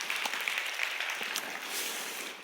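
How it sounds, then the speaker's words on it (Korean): A young adult church congregation applauds the worship singer and accompanist during a Sunday youth service, a soft, distant patter of many hands that continues steadily throughout with no talk on top. "감사의 박수하겠습니다"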